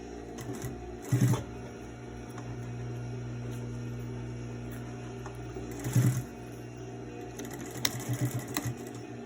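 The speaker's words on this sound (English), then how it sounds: "Sew down the pleats on your other side." A sewing machine stitches down the pleats on a fabric face mask with a steady, close, fairly quiet whirring hum, broken by a few brief louder clunks of the mechanism spaced several seconds apart.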